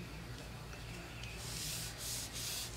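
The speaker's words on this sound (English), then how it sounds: "give that a little bit of rub" Glued paper is rubbed down by hand onto a tea light candle holder, giving soft, close, continuous brushing friction that swells into a few stronger strokes near the end.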